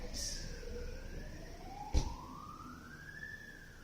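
A fire engine siren wails in long, slow rising and falling sweeps at a moderate distance, with a single sharp knock partway through and no speech.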